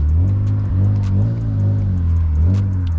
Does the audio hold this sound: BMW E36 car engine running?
yes